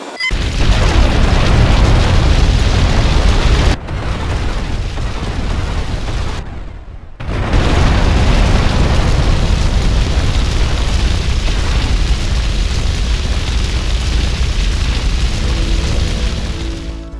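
Bombs detonating at gas canisters in GTA Vice City's Demolition Man mission, a sustained loud rumbling blast roar filling the whole stretch, broken by two brief drops and gaps, without talk.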